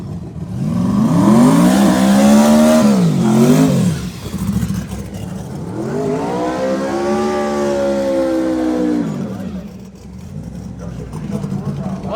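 Turbocharged drag racing cars, one a Mustang, roar off the line at Cecil County Dragway, engines rising loud and close in long revving sweeps, dipping, then climbing again, with an announcer talking over the run.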